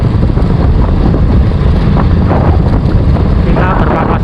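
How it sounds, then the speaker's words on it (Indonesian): Strong wind roars beside rice fields in the Kulon Progo countryside, buffeting the microphone with a loud, steady broadband rush that lasts the whole stretch. "anginnya kenceng banget ya."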